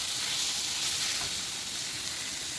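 Mixed vegetables sizzle steadily in a pan during home cooking, a continuous close hiss with no voices.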